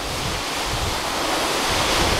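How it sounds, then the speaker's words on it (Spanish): The Paccha waterfall near Pimampiro in Imbabura, Ecuador, gives a dense, unbroken roar of falling water that stays loud and even through the short clip, with no talking. "En la parte de allá se queda la cascada ahí."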